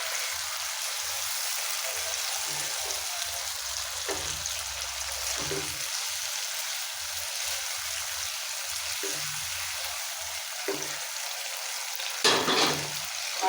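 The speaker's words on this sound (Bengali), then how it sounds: "এখান থেকে আলু আর করলাটাকে কষাইছি, আমি ভালোভাবে কষিয়ে তারপর মাছটাকে দিয়ে দিই" Potatoes and bitter gourd being sautéed in a pan send up a steady, close hiss of frying, broken now and then by the scrape of stirring, with no voices.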